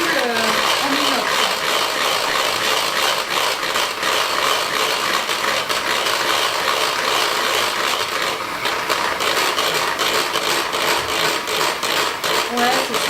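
An electric hand mixer whips egg whites in a bowl, a loud, steady motor whine with a faint rattle that runs without a break close by.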